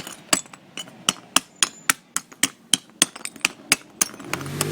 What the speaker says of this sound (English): I'm going to put some broken ceramic tiles right at the bottom of the pot, so I just need to break them up